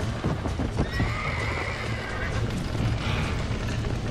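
A horse in the Red Dead Redemption video game whinnies loudly and close while its hooves clop continuously underneath.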